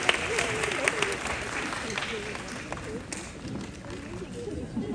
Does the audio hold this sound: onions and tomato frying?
no